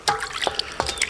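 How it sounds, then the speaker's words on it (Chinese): Vegetables are rinsed under water, giving short splashing and dripping bursts with a few bright trickling spurts, close and brief. "先洗一番菜"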